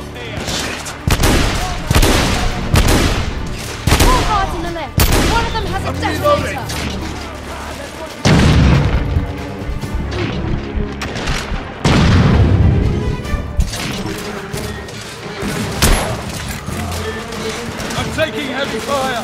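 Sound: gunfire in the video game The Order: 1886

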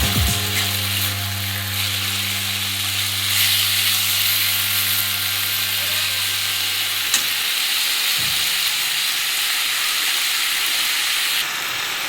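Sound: drumstick leaves frying in a pan

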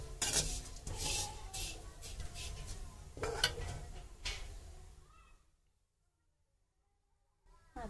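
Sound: sewai vermicelli being roasted and stirred in a pan

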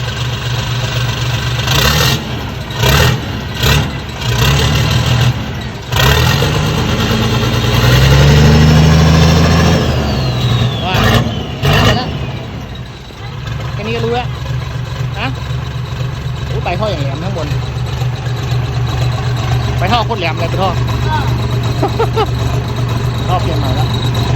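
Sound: Hino Victor 380 hp tractor truck engine running

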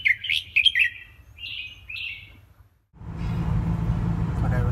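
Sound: pet songbird chirping

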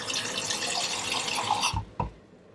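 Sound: water swished around a harmonica to rinse off ketchup

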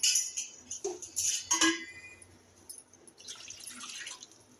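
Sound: water pouring into pan

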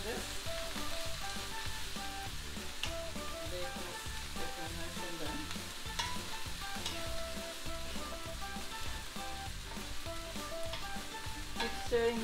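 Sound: bacon and vegetables sizzling while stirred in a frying pan

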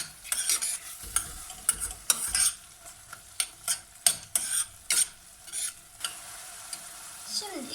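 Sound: garlic being sautéed in a pan

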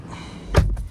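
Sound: car door of a Changan Eado Plus closing

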